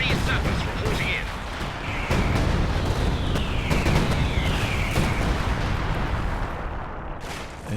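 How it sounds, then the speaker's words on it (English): A dive bomb in Company of Heroes 2 lands with heavy booming explosions and rumbling artillery-like blasts, loud and dense over several seconds. A commentator's voice runs underneath. "just a dive bomb happened there"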